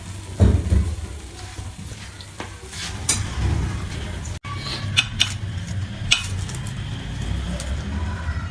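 Fried mutton chops being dished out of a frying pan, with repeated metal clinks and scrapes of a utensil against the pan over a steady low sizzle, close and continuous.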